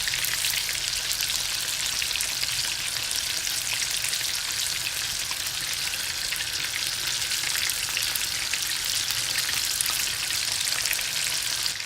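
Rockfish fries in a cast iron pan on a gas stove set just above medium heat, giving a dense, even crackling sizzle that stays constant and close for the whole stretch, with no talking.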